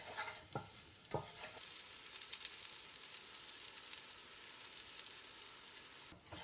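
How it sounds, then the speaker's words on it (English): Flour browning in a pan for a roux gives a quiet, steady sizzle while a utensil stirs it around, with a few soft knocks and scrapes early on. "I'm going to get that moving around in my pan and make the base of a roux here"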